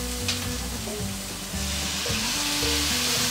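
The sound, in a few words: sweet and sour sauce poured into a pan, sizzling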